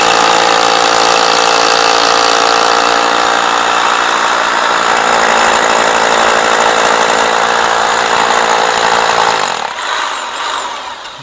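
A rotary hammer and a powder-actuated nail gun are tested on concrete and steel, with a loud, continuous mechanical roar that keeps going for about nine seconds and then drops off sharply near the end.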